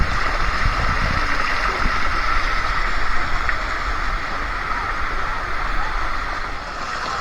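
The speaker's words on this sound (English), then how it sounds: "So this is just a regular water slide." A regular water slide at Noah's Ark waterpark in Wisconsin Dells, with steady rushing, splashing water as a rider moves down the flume, continuous and fairly loud throughout.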